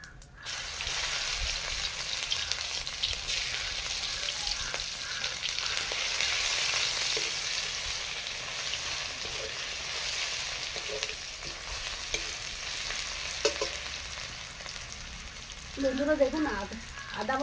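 Whole cumin and garlic paste sizzle steadily in a hot pan, a broad continuous frying hiss with faint stirring scrapes near the end.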